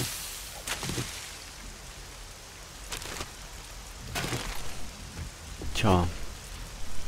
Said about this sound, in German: hier regnet's